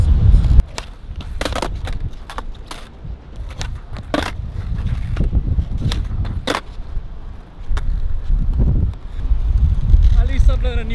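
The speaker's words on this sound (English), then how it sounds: "I'm sorry about this, it's a bit windy." Gusty wind buffets a camera microphone outdoors at a skateboarding session, producing loud, uneven low rumbling that swells and dips throughout, broken by sharp clatters and knocks from the board.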